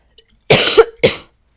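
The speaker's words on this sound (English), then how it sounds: "I just coughed" Two sharp, close coughs in quick succession, loud and abrupt, with silence before and after.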